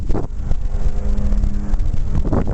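An Agri-Fab leaf and wood chipper's small gas engine runs steadily at close range, a continuous buzzing drone with slight wind noise on the microphone.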